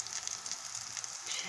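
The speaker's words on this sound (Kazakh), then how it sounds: "Екі жанын қызартып, тез ғана қуырып аламыз" Buckwheat cutlets fry in hot oil with a close, steady high-pitched sizzle and faint crackle.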